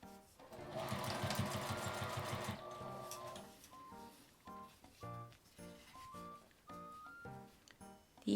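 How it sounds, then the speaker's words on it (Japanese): Sewing machine topstitching close along the edge of a small scrap-fabric box pouch, a dense continuous run of rapid needle chatter for about two and a half seconds, then short separate bursts of stitching with gaps between. "揃えて引くようにして端ミシンをかけます。"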